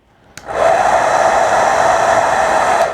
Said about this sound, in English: Take your hair dryer, make sure it's on low